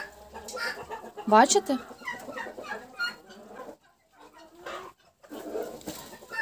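A broody turkey hen clucks and gives a sharp, rising call up close as she is moved to a new nest, with quieter clucks after, while someone speaks between the sounds.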